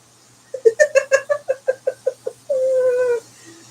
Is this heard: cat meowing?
yes